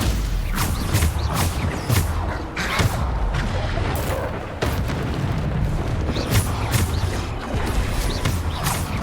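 Repeated Bombarda spell blasts in Hogwarts Legacy, loud booming explosions and impacts recurring throughout amid other combat spell effects, with no clear talk.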